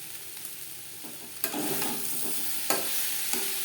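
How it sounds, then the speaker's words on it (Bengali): Fried vegetable stems with coconut and roasted cumin powder being stirred in a pan, a quiet sizzle broken by two distinct scraping strokes of the spatula. "জিরের গুঁড়ো বেশ ভালো করে মিক্স করে দেব"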